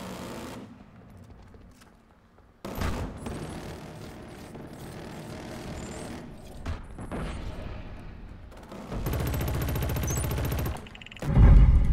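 Gunfire in Killzone Shadow Fall multiplayer, scattered shots and bullet impacts building into a sustained loud burst of automatic fire, then a heavy blast at the end, with no talk.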